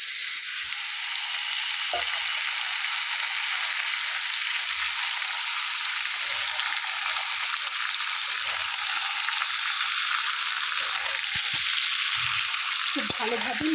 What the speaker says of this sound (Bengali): এবার আমি মাংসটা দিয়ে দিচ্ছি